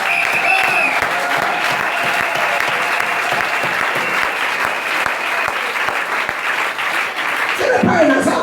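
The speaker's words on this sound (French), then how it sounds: "On peut acclamer pour le christianisme." A church congregation bursts into sustained loud applause and cheering during a worship service, a dense steady roar of clapping that holds for several seconds before a voice breaks through near the end.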